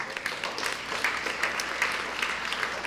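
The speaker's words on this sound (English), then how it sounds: "So a huge round of applause to everyone for that." An audience at a school district meeting gives a round of applause, a continuous wash of clapping with individual claps popping out.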